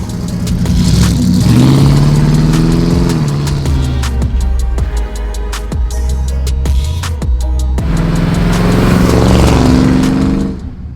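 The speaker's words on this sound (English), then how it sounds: "Thomas ended up jumping in Rob's 64 Impala and we decided to go for a quick cruise" A 1964 Chevrolet Impala out on a cruise, its engine note loud and steady throughout with rising and falling revs, a swell near the start and another surge toward the end, no voices.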